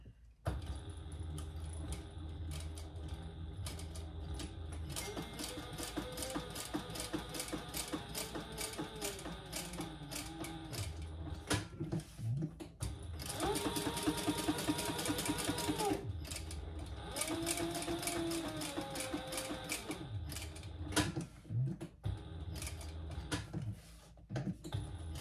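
Sewing machine stitching the edges of a fabric wallet at a stitch length of 3, rapid close mechanical chatter in several runs of varying speed, separated by short pauses and handling clicks.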